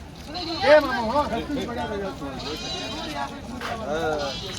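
Sheep or rams bleating at a large livestock market, a few wavering calls mixed into busy crowd chatter and talking nearby.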